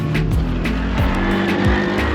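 A car engine coughing and spluttering while climbing a road in the Peruvian Andes, a loud close drone with uneven pitch dips and a strained, labouring roar throughout.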